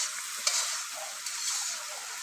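Spices stir-fried for aloo dum in a pan over a clay stove give a steady, fairly quiet hiss of frying, with a couple of sharp scrape accents from stirring.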